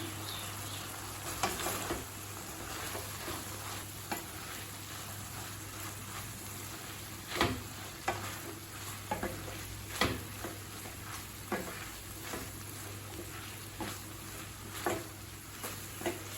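Chopped chapati pieces with mint are stirred and fried in a pan for veg kothu chapati. Intermittent sharp spatula clanks recur over a soft, steady sizzle and a low background hum.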